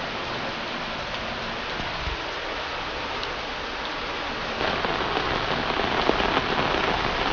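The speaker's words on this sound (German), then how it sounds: "Es regnet beim Abschied." Steady rain pattering on a surface outdoors, close and continuous, as a dense hiss of drops that grows slightly louder and fuller in the last few seconds, with no voices.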